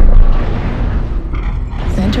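A missile strikes a mech in MechWarrior Online, a loud booming explosion at the start that decays into rumble, with a brief burst of further impact noise near the end while a voice speaks.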